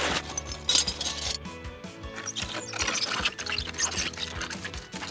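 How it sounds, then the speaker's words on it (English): Foley water and liquid effects for freezing tubes, performed in a sound studio: continuous sloshing and trickling with scattered glassy clinks and small mechanical knocks, fairly close and without speech. "The mixer's gonna pitch me down and make this liquid sound thicker."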